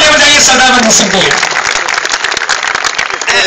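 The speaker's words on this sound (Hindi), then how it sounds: "एक बार जोरदार ताली बजाइए सरदार मंजीत सिंह के लिए" An audience at a comic poetry gathering (hasya kavi sammelan) in Gorakhpur gives loud applause, a dense clatter of clapping that rolls on under a voice before swelling again at the close.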